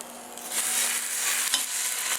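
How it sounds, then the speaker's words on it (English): A chuck roast sears in a hot pan with a bright, steady sizzle and crackle, close and loud, with a few sharper spits and no talking. "Get that sizzle. That's what we want. Let that thing sear."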